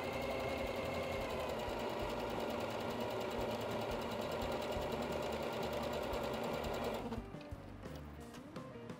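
A sewing machine runs steadily for about seven seconds, stitching patchwork pillow pieces along a marked line, then stops, leaving a few faint clicks and quiet handling sounds.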